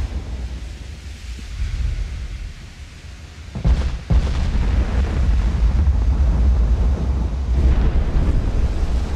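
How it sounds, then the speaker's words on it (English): Bow torpedoes launch from a warship in the naval game Ultimate Admiral: Dreadnoughts, a sudden heavy burst rising out of loud rolling sea and wind rumble that continues afterward. "Hey, there goes the bow torpedoes."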